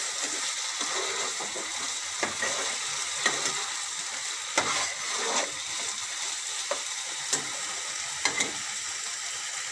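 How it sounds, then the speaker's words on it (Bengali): Potatoes with spices frying in a pan for a prawn and poppy seed dish, giving a steady bright sizzle broken by irregular scraping stirs of a spatula, with no talking. "একটু নাড়াচাড়া করে নেব।"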